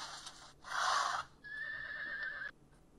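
A horse in a short social clip lets out a loud whinny in two bursts, a breathy burst followed by a sustained high neigh, with no talking.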